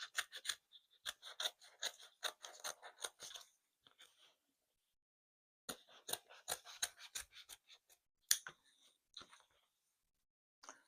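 Scissors snip and trim a beading project in two bursts of rapid, close, crisp cuts separated by a quiet pause, then a few scattered snips.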